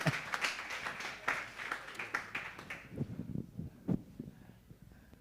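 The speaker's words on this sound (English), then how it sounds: "Please give our second picture a round of applause." Scattered applause from a product development workshop audience fills the first three seconds, dense claps that thin out and give way to low murmurs and a few stray claps.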